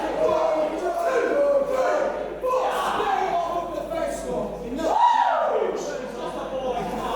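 A wrestling arena crowd jeers and boos at a pro wrestling show, a loud sustained roar of voices with rising swells, heard under an announcer's commentary.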